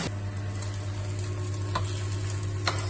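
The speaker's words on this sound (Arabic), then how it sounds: "ها هي غادي نشحرو مزيان وندير عليهم جوج البيضات" Spinach and eggs fry in a hot pan with a steady, close sizzle and a faint crackle, plus a couple of light utensil taps.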